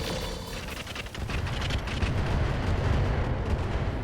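Mech weapons in the RogueTech battle game fire together in a dense, rumbling barrage of booms and blasts that builds into a sustained roar, with no voices.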